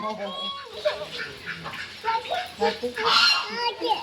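Ducks honk and quack in short, irregular bursts nearby, mixed with people talking in the background.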